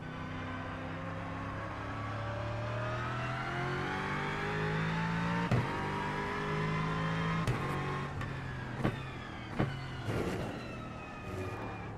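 An Aston race car in the iRacing sim, its engine holding a steady high drone that climbs in pitch as it revs. Several sharp pops cut through as it shifts gears, with no talk over it.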